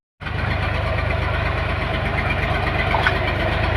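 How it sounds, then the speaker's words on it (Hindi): A tractor engine runs continuously while hauling soil in a village, a steady loud diesel chug with a low knocking rumble that starts abruptly and holds without pause. "जे छै ट्रैक्टर लेके आयल, माटि लेके जाइ छै"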